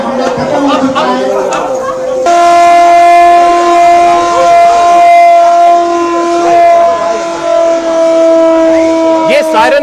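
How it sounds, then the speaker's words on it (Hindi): A loud sustained air raid siren tone holds steady at one pitch for several seconds, an all-clear signal during a civil defence mock drill in India, following a brief wavering start and some background chatter. "ये ऑल क्लियर का सिग्नल हो गया है।"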